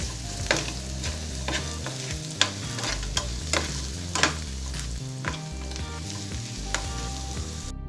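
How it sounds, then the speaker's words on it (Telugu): A ground garlic, cumin and coriander paste fries with onions in hot oil as a tempering for tomato rasam, giving a constant close sizzle broken by repeated sharp scrapes and taps of a stirring spoon. "ఇది పచ్చి వాసన పోయే వరకు బాగా ఫ్రై చేసుకోవాలి"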